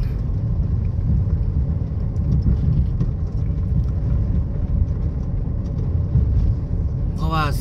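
Steady low rumble of congested evening road traffic in Vientiane, Laos, engines droning continuously nearby with no distinct passing vehicles standing out.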